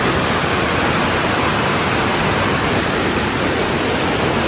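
A strong stream, almost a small river, rushes loud and steady beneath a bridge beside a village, a dense unbroken roar of water with no voices.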